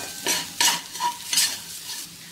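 A spoon stirs a dry spice mixture with ajwain and sesame seeds in a pan, several rhythmic scraping strokes close up, no voices.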